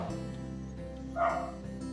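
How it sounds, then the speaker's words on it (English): One short dog bark rings out indoors, faint and somewhat distant, over a steady low room hum in a home workshop where a 90s Pinarello bicycle is being assembled. "That's just my dog."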